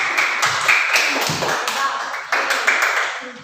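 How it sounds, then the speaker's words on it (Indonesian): A group in a classroom bursts into applause, a dense and lively patter of many hands clapping at close range. Voices murmur and call out under the clapping throughout. "Tepuk tangan buat kelompok."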